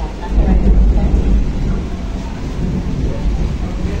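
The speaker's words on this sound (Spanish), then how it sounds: "Escuche un trueno." Deep, heavy rumbling rolls on through the whole stretch, a loud low thunder growl that swells early and slowly settles without fading out.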